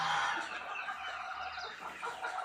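Chickens cluck and murmur nearby in a soft, continuous flock chatter.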